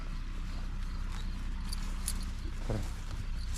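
Percheron mares and foals shuffle and clop their hooves close by over a low rumbling background, with a brief snort or movement near the end.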